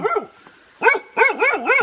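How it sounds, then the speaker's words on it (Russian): A dog barks near a guest house by a waterfall, a short whine followed by a cluster of loud, close yelps and barks in quick succession. "Тут Рекс гавкает."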